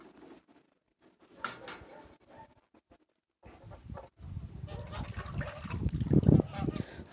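Geese swimming among ice on a freezing pond honk in loud, repeated calls that build toward the end, close by, over faint outdoor background noise.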